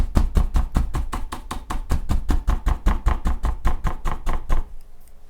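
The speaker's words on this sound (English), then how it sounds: "I'm tapping pretty hard here at the base." Paintbrush tapping hard on canvas during oil painting, a fast, even run of about two dozen sharp close knocks that stops shortly before the end.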